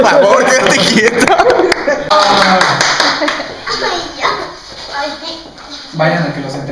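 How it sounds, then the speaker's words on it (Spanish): Clapping and cheering break out for a performer at a behind-the-scenes music video shoot, with quick hand claps mixed with excited talking and laughter. "¡Bravo! ¡Bravo! Miren que me aplaudo."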